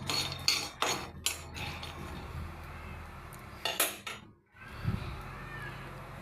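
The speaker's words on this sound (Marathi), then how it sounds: "छान शेंगदाणे भाजून घेत आहे मी" Peanuts dry-roasting in a pan are stirred with a utensil, giving scattered metallic clinks and scrapes with short pauses, close and fairly quiet, with no talk.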